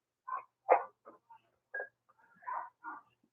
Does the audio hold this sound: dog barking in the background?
yes